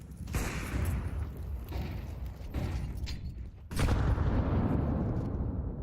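A grenade goes off during an esports first-person shooter match, one of several booming blasts and gunfire-like cracks in dense combat noise, with a heavier, louder explosion landing near the end.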